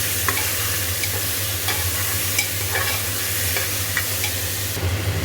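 Tomatoes and ginger paste frying in a pan, a constant close sizzle with intermittent scrapes of a spoon stirring, fairly loud and steady.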